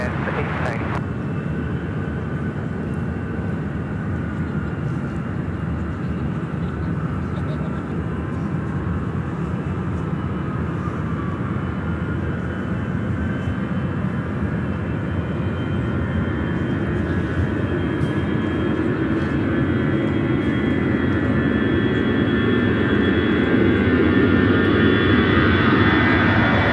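An American Airlines airliner lands on runway 1 at LAX, its jet engines a steady, broad roar that swells gradually louder toward the end.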